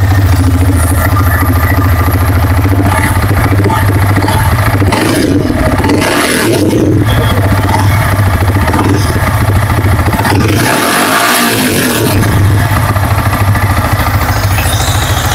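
A second-hand Yamaha R15 V3 motorcycle engine runs loud and close for a steady stretch. A constant low drone holds throughout, with a few brief shifts in tone and no talking.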